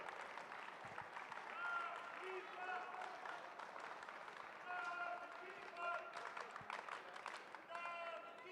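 Spectators at an athletics meet's afternoon session give a round of applause for an athlete, steady distant clapping and crowd murmur sustained throughout, with voices talking over it.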